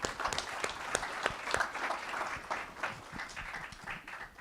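Audience at a summit applauding a speech, a dense patter of many hands clapping steadily, moderately distant and fading slightly toward the end.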